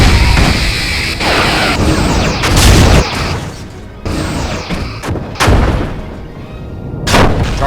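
A space battle in Star Trek Bridge Commander erupts with heavy, booming explosions. Several loud blasts strike in separate bursts with rumbling decay between them, and no voices are heard.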